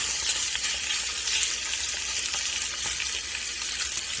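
Food frying in a pan gives a steady, dense sizzle with faint crackles, close and even throughout, with no talking.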